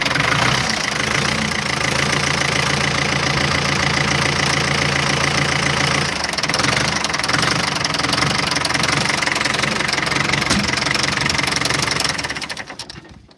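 Diesel engine with a leaking injector pump idling nearby, a loud, steady knocking clatter that runs evenly for about twelve seconds before cutting off abruptly.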